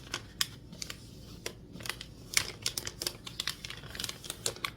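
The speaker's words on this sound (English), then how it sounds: "I have 2 more lines to fold on." Thin foundation paper for paper piecing being creased and folded along printed lines, a run of soft, crisp paper crackles and rustles at close range in a quiet room, with no talking.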